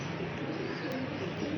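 A pigeon coos softly and steadily in a short stretch, a low rolling call against a constant background hiss.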